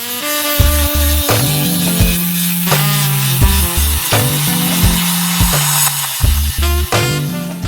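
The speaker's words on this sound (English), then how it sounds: "now it's being trimmed up on the edges to get rid of the flash" Hand trimming of flash along the edges of a fresh cast taken from a rubber mould: steady, close rasping and sawing strokes repeat in a rough rhythm, loud and continuous with no talking.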